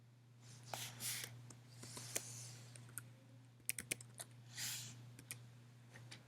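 Keys clatter on a computer keyboard as someone types text, with irregular soft taps and a few sharper clicks, close and quiet over a low constant electrical hum.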